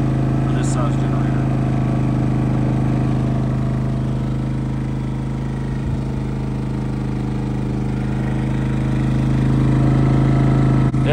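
Westinghouse iGen 4500 inverter generator running revved up under load outdoors, a loud steady engine drone with a constant hum throughout, filling the whole stretch with no voices.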